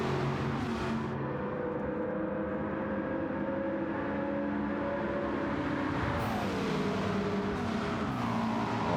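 Race cars lap Monza in a racing video game, engines droning close and steady before the pitch drops sharply as they brake, then climbs again, with no talking.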